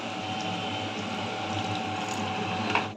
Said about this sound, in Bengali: এবারে মাংসতে জল দিয়ে দেবো